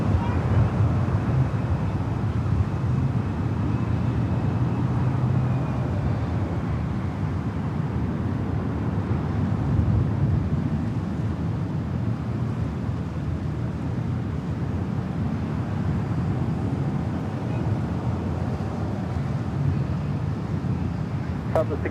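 A Qantas Airbus A380 arriving at LAX from Sydney: a low, steady jet roar heard from a distance across an open park, with wind buffeting the microphone and an airband radio voice faintly in the background.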